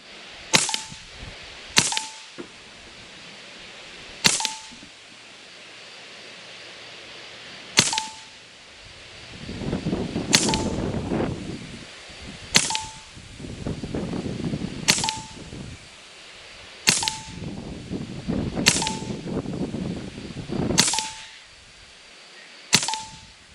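Huben K1 .30 calibre semi-auto air rifle firing a series of about ten sharp, loud shots spaced a couple of seconds apart, each with a brief ringing tail, with quieter handling noise between some shots.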